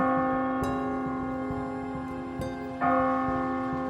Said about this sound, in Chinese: 这天上班的路上他经过了市中心的钟楼，听到了整点的钟声。